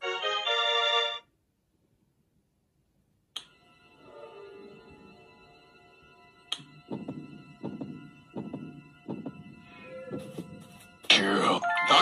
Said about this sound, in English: That better be wind ringing my doorbell.